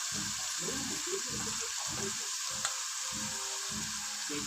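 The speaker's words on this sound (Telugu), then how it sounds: "రైస్ కూడా అలా వేయించుకుంటే చాలా బాగుంటుంది." Rice frying in a hot pan, a steady loud sizzle with rhythmic stirring strokes scraping through it, no voices.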